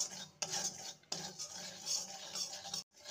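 Dry semolina being stirred and roasted in a pan, a continuous close scraping and rasping of a spoon against the pan surface with brief pauses, alone without talk.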